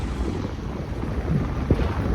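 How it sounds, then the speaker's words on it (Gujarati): Strong wind roars steadily across the microphone, low and heavy, with a few sharper gusts and buffets near the end. "પવન બહુ છે"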